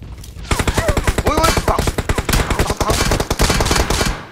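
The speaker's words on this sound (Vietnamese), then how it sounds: "Nghe tiếng súng rồi đó." Rapid automatic gunfire from PUBG Mobile rattles in dense, loud bursts of sharp shots, nearly continuous over several seconds after a brief quiet start, with faint voices mixed underneath.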